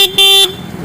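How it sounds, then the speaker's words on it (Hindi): Two short bright toots from a horn fitted to a bicycle modified to look like a Hero Splendor motorbike, loud and close, the second held a little longer. "हॉर्न भी है इसमें"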